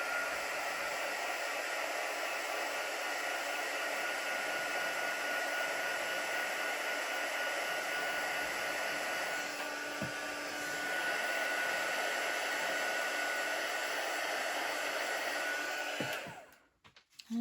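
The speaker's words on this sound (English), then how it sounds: "I generally just use a heat gun just to heat set that a little bit" A heat gun blows steadily over freshly stamped ink on vellum, a loud, even airy roar that holds for about sixteen seconds before cutting off abruptly.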